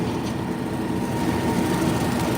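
A John Deere 3032e tractor engine with a Countyline 5-foot bush hog mower drones close by, a steady, loud, low rumble that runs on unchanged throughout, with no voices.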